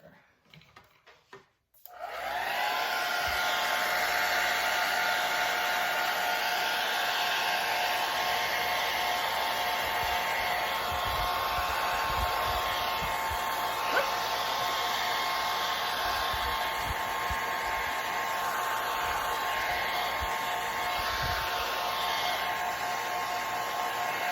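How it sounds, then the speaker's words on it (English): A hair dryer switches on after a brief moment of quiet, then blows with a steady, whirring hum close by and without interruption. "put a little bit of heat on it with my blow dryer to get it to dry a little faster"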